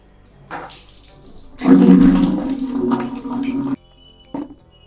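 Hand wash being mixed with water in a bucket for cleaning motorcycle armor: a steady rushing pour of water lasting a couple of seconds, with light handling clatter before and after.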